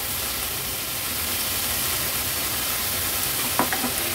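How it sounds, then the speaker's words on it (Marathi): Cowpeas, potato and tomato sautéing in spice paste for a vegetable dish give a constant loud sizzle, with a couple of brief spatula scrapes and clinks near the end; no speech. "भाजी एकदा व्यवस्थित मसाल्यात परतून घ्यायची आहे"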